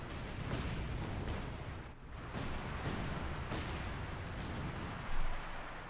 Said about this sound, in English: More artillery fire there.